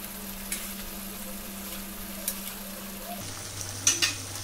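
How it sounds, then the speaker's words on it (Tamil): Boiled, cut onions go into an oily gravy and are stirred as they fry, a faint, even sizzle with a few soft utensil taps near the end and no voices. "இப்போ நம்ம வேக வச்சு கட் பண்ணி வச்சிருந்த வெங்காயத்தை இதில் சேர்த்துடலாம்."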